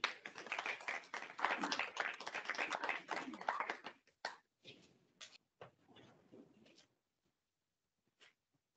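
Audience applause welcoming a guest speaker at a financial planning talk, a dense burst of clapping for about four seconds that thins into a few scattered claps and fades out.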